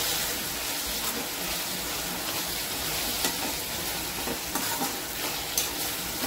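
Mutton sizzles and fries with softened tomatoes in a pan, a loud, steady hiss of frying with occasional stirring scrapes running throughout, no voices present.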